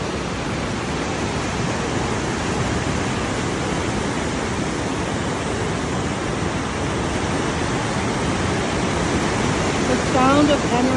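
Steady broadband rush of waves along a waterway, continuous and fairly loud throughout with no breaks, and a few faint higher chirps near the end.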